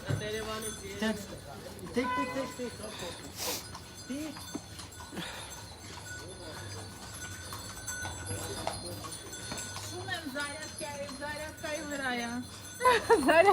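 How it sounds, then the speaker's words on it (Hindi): Horse-drawn carriage on an Armenian street, Armenian horses' hooves clip-clopping in an irregular trotting rhythm at close range, with jingling harness, under continuous talking voices. "ये है आर्मेनियन घोड़े"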